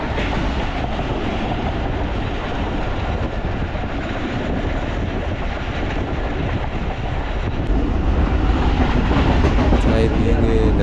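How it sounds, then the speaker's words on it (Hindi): Pakistan Express passenger train running on the tracks near Islamabad, heard from aboard: a constant loud rumble with rhythmic wheel clatter, steady throughout and swelling slightly toward the end. "जहाँ से अभी ट्रेन गुजर रही है।"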